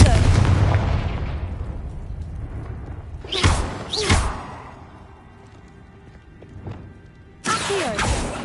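Confringo spell blasts in the Hogwarts Legacy video game: a loud explosive burst at the start, two sharp close blasts a little after three and four seconds, then another heavy blast near the end, with quieter rumbling between.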